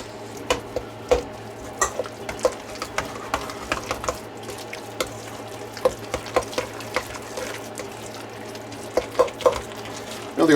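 A spoon scrapes and clacks through sausage and spinach lasagna filling sizzling in a pan, irregular stirring taps over a steady low frying hum.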